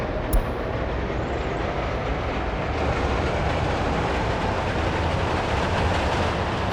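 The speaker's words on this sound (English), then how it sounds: "So the train, let's have a look at the train itself. As he comes out of the station, there he is." A train leaves a station in the game Workers & Resources: Soviet Republic, rumbling steadily as it rolls, with a brief click at the start and the noise swelling slightly as it moves off.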